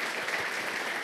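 Faint, distant applause from an audience at a sports club's season-launch event, an even patter of many hands clapping with no voices over it.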